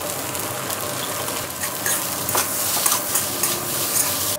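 Naem fermented pork sausage and carrot sizzle as fried rice gets stir-fried in a hot pan, with a steady loud frying hiss and scraping spatula strokes running throughout, no talking.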